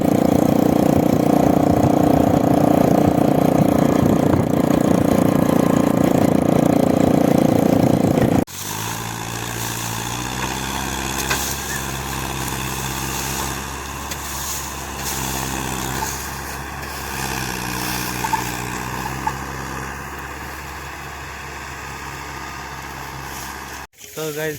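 A tractor engine idles nearby in a steady low, throbbing drone, preceded by a louder, rougher stretch of engine noise before it settles.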